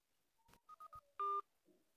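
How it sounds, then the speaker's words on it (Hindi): Telephone keypad dialing tones while calling a number: a short series of distinct beeps, several brief tones followed by a longer one, clear and close in an otherwise quiet recording. "चलो दोबारा हम कॉल लगा के देखते हैं कि लगता है कि नहीं"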